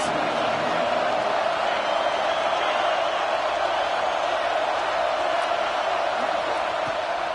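Steady roar of a college football stadium crowd in College Football 26 rallying behind the defense on third down, a continuous dense wash of cheering and noise that holds at an even, loud level throughout.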